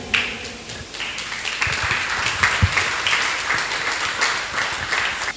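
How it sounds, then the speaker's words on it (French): Sustained applause from a crowd, dense and even throughout, with no voices rising above it. "montrons toute notre chaleur par des applaudissements bien mérités"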